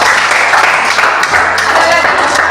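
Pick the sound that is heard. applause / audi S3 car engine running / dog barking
applause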